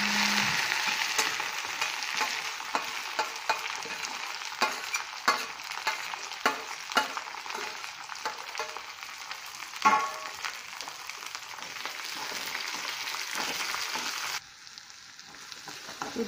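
Onion, green chili and curry leaves fry in a pan with a steady, close sizzle, broken by scattered stirring clicks and scrapes, and the frying softens briefly near the end.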